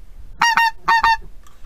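A hand-blown goose call for wildfowling imitates several honking geese, giving two quick pairs of loud, reedy honks followed by a faint trailing note.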